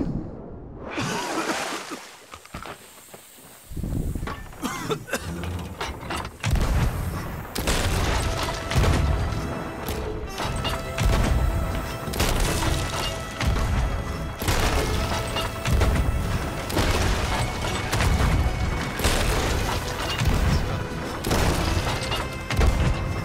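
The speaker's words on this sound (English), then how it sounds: "Perfect, that cannon is perfect." Ship cannons in Sea of Thieves boom again and again through a dense, chaotic battle, with heavy thuds, crashes and rumbling layered together almost without a break.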